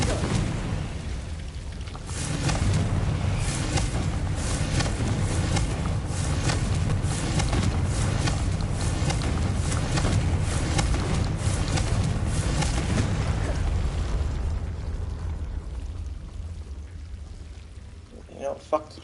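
Confringo fire spell in the Hogwarts Legacy video game: a sustained, loud roaring burst of fiery explosive noise that swells, holds for many seconds, then fades out.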